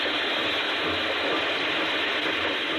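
Steam engine machinery in a radio sound effect grinds and chatters continuously, a dense, loud mechanical clatter of ratcheting gears and working parts with no pauses or talking.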